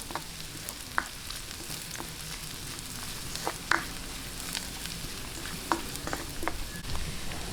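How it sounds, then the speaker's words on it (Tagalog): Garlic sautés softly in a pan while a Charlie Chan-style chicken pasta is prepared. Quiet, low frying hiss runs throughout, broken by scattered sharp clicks and scrapes of a utensil stirring. "umpisahan na po natin ang paggigisa. Ayan. Sunod po natin ang bawang"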